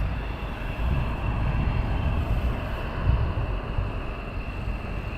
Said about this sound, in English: So these guys are now taxiing out.